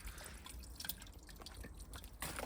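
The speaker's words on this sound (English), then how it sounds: "So we've got drips and things coming down." Melting ice drips from ice-coated plant stems outdoors on a January day, a scatter of soft, irregular droplet taps over a steady background hiss, close and fairly quiet.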